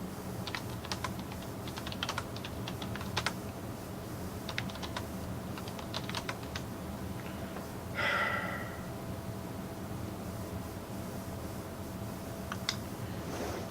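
Computer keyboard typing in scattered bursts of clicks at a desk, fairly soft under a steady room hum, with a brief breathy noise partway through.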